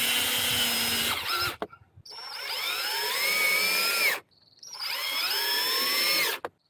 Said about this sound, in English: I'm going to do the screws on the inside first.